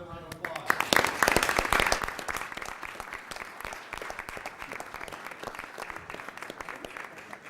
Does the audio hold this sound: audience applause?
yes